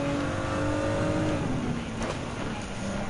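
Lamborghini Huracan GT3 race car in Gran Turismo 7, its engine droning and shifting pitch steadily as it runs on track, loud and continuous, with a brief sharp burst partway through.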